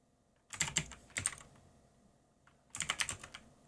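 Short bursts of clicky keystrokes on a computer keyboard, three quick clusters separated by pauses, close and fairly quiet, with no voice over them.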